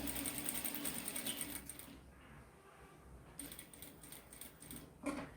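A sewing machine stitches fabric for a plush dog toy, running in quiet mechanical bursts with a short pause in the middle, faint and close, with no voices.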